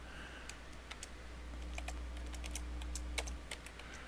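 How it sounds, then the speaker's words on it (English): Rapid keystrokes on a computer keyboard, close and fairly quiet, with irregular clicks over a low steady hum as a city name is entered into a search field. "So I'm typing in Alhambra."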